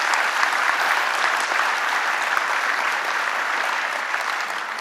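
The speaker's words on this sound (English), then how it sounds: "A round of applause one more time for those people." Sustained applause from a town hall audience, steady and dense across the whole stretch with no voices breaking through, tapering only slightly at the end.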